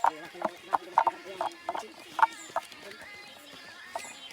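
Horse hooves clip-clop in an uneven rhythm on a hard surface, fairly close, while people talk in the background, in a mountain setting.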